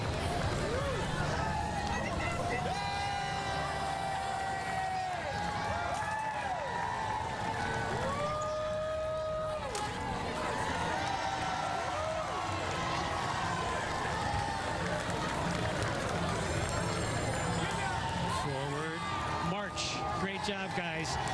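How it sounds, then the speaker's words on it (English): A street crowd at San Antonio's 2024 Battle of Flowers Parade cheers and whoops around a passing high school JROTC unit. The noise is steady, with commentators talking over it throughout. "And listen to the crowd here."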